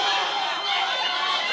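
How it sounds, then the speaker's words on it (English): A crowd at a kumite fight roars in a steady, loud wash of cheering and shouting voices that continues unbroken throughout. "you can hear the crowd roaring them on"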